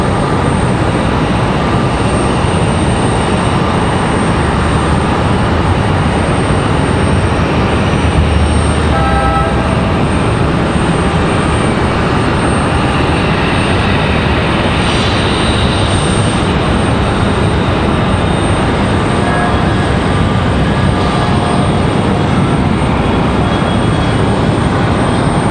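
An Avelo Airlines Boeing 737-800 arriving at Raleigh-Durham from Manchester produces a long, steady, loud engine roar with a faint whine, sustained evenly with no talk.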